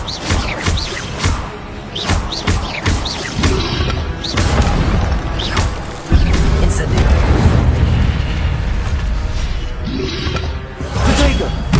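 In Hogwarts Legacy, repeated spell casts including the Incendio fire spell burst out as loud booms, whooshes and crashing impacts, layered over heavy combat noise in a dense, continuous barrage.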